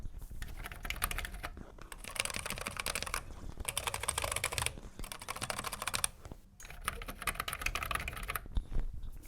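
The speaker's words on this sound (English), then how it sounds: "They resemble the C64 keys a little in terms of clickiness, and you can even hear the difference." Fast clicky typing on an Amstrad Schneider CPC computer keyboard, its slightly yellowed keys clattering in rapid bursts separated by brief pauses, close and crisp.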